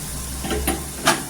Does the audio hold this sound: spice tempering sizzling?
yes